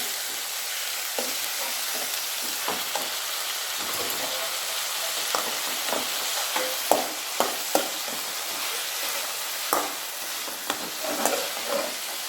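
Okra palya sizzles and fries steadily in a pan, with a constant hiss broken by repeated scraping, clattering stirs of a spoon against the metal, heard close and without talk.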